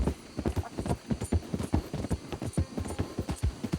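Rhythmic hoof clip-clops from a horse in a video game, steady and fairly close, repeating evenly throughout with no talking.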